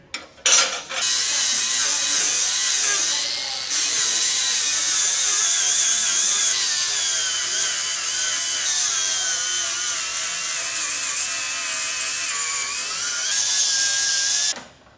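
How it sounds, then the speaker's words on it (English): An angle grinder grinds down a fresh weld on a Nissan 370Z drift car, a loud, steady high-pitched metal whine that runs nearly the full length, with a brief pause near the start and another near the end. "I'm gonna grind this down."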